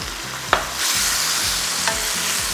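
Crispy snakehead fish tossed over high heat with holy basil, chili and oyster sauce sizzles steadily and loudly while a metal spatula scrapes the wok in two quick strokes, close and with no talking.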